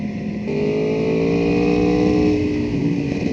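A superbike on a race track gives a loud, steady engine drone with rising harmonic tones as it accelerates, heard close up from the rider's position under constant wind rush, with no talking.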